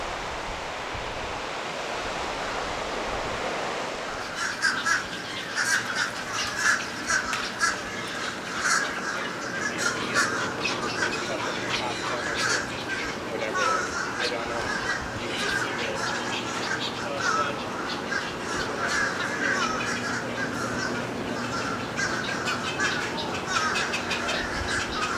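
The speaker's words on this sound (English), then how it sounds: "Those birds sure have a lot to say." Seabirds squawk and caw over and over from a beach at a seabird sanctuary in Indian Shores, with steady surf noise underneath and voices talking in places.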